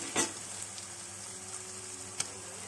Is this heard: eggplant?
yes